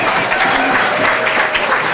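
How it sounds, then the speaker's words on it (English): Dense, energetic applause from a crowd at the Pacifica Chamber awards evening in Nick's Restaurant, sustained and loud throughout with the clatter of many hands. "let's give a huge round of applause"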